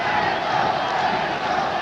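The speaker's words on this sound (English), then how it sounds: "The fans, capacity crowd, loving it" Capacity crowd at ringside for a featherweight boxing match, a dense, continuous roar of cheering and shouting that stays loud and steady.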